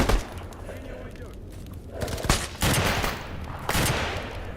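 Gunfire in S.T.A.L.K.E.R. Anomaly: several sharp, loud shots crack out at irregular intervals, each followed by a rumbling echo, over steady ambient noise.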